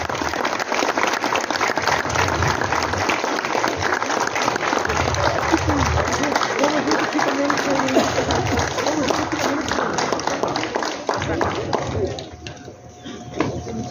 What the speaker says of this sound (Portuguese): Então eu pediria uma forte salva de palmas ao pessoal que ainda reside em Nossa Senhora do Caravaggio.